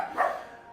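A pet dog lets out a single short, muffled bark somewhere in the room, heard alone and at moderate distance.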